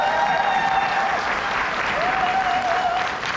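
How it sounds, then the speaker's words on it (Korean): Seminar audience at a resort event claps in a sustained, even round of applause, loud and close, with a faint tonal whine running faintly underneath. "다시 한번 큰 박수 부탁드릴게요."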